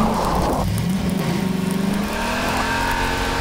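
A car engine driving in the Garry's Mod video game, a steady droning motor that shifts pitch as it revs and eases, loud and continuous with no talking.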